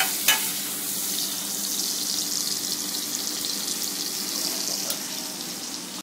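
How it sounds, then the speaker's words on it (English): Steak sizzling steadily in a hot pan with onions nearby, a continuous bright frying hiss with a brief clatter near the start and no talking. "Steak sealed on one side now, so I'm just turning it over. I'm going to let it cook away there"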